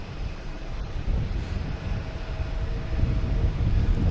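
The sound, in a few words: Alaska Airlines airplane taxiing at Boston Logan Airport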